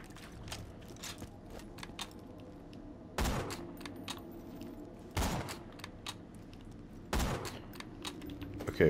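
Gunfire in Borderlands 2, with three strong, evenly spaced shots or bursts standing out over a steady bed of lighter clicking and game noise.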